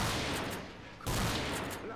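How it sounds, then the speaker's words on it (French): Two blasts from a pump-action shotgun in Left 4 Dead 2, a loud boom at the start and another sharp boom about a second later, each with a short decaying tail. "le fusil à pompe, je vais tirer, admettons, 2 balles"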